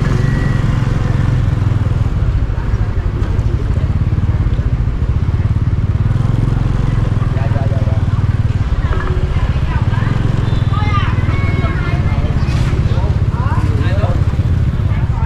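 Motorcycle engines and traffic near a motorbike parking area by Cho Dam market in Nha Trang, a loud continuous rumble of passing scooters with clatter, horns and street noise throughout, with voices in the background.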